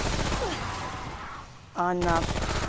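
Gunfire from the video game Remnant: From the Ashes rattles in dense bursts under a person talking, with a tonal game sound near the end.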